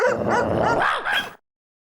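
A black dog sitting by the black gate of a house in a residential lane gives short, yelping barks and whimpers, loud and close, filling the first second and a half before stopping abruptly.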